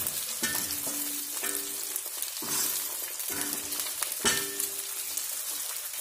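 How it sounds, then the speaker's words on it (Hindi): Potatoes sizzle steadily in hot oil in a pan, with a spoon scraping and turning them at irregular intervals of about a second, each stir briefly swelling the crackle. "आलू को 2 से 3 मिनट तक बिल्कुल अच्छे से फ्राई कर लें"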